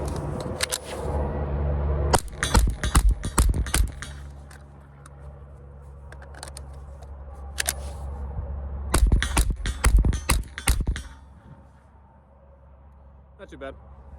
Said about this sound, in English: take number 2, except this time we're going to hit all 10 shots, unlike last time